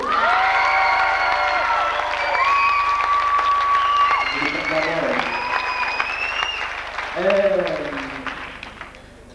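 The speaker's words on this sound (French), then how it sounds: "Donc applaudir David Couturier" A theatre audience at a 1998 stage play applauds during cast curtain calls, with steady clapping running beneath loud, prominent vocal cheers and shouts that rise and fall over the top.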